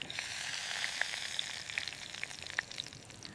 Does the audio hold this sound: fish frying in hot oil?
yes